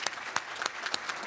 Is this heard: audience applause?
yes